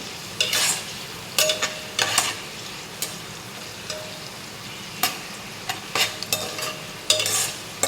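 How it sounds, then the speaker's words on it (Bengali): Finely diced carrots fry in a pan, a low steady sizzle punctuated by repeated clanking scrapes of a spatula against the metal, close up and without speech. "আমি গাজরগুলো দিয়ে দিয়েছি গাজরগুলো একটু ভাজা ভাজা হলে"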